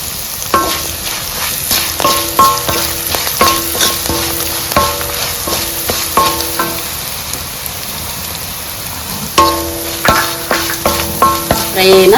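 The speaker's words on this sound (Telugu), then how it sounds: "దొండకాయ ఫ్రైలోకి కారానికి నేను చిన్నులపాయలు, 4 ఎండుమిరపకాయలు, కొంచెం ఉప్పు, జీలకర్ర వేసి పట్టించుకున్నానండి" Tindora (ivy gourd) fry spice mix of shallots, dried red chillies, salt and cumin frying in a pan, a steady hiss under repeated stirring scrapes and spoon taps, close and continuous.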